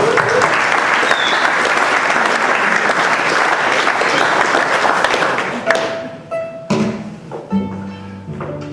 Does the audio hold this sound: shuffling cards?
no